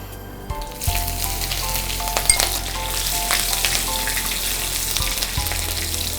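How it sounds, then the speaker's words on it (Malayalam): Cumin, bay leaves and a green chilli fry in very hot oil, a loud, close, continuous sizzle with a couple of sharp clinks and stirring scrapes of a utensil against the pan. "എണ്ണ നല്ല ചൂടായി. ഇനി ഒരു 1/4 ടീസ്പൂൺ നല്ല ജീരകം."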